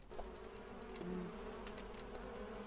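Bees in the farming game Green Project buzz steadily at close range, a low droning hum with a few short brighter clicks over it.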